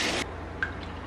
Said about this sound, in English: Just toss some coconut milk in there